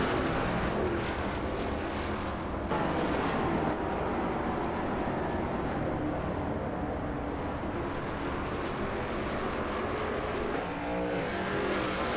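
Shelby Mustang GT350R race cars in a racing game set at Barbagallo roar off together at a race start, a loud, continuous, dense engine drone with layered revving that holds steady throughout.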